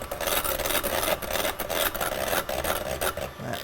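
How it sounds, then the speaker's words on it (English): Three egg yolks are whisked into frothy beaten egg whites for avgolemono soup, a continuous close rasping and scraping of a whisk against the bowl with quick rhythmic strokes. "I'm just going to mix again until it's nicely incorporated and"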